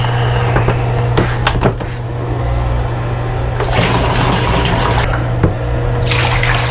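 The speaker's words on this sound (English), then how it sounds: "Give it a rinse and a good wash." Running water rinses a sheet of 14x17 X-ray film after the fixer bath, a steady splashing flow with a low hum underneath and occasional clunks and sloshes nearby.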